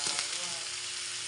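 Meat for pork adobo sizzles in a hot pan over chili, onion and garlic, a brief bright crackle with a couple of sharp pops at the start.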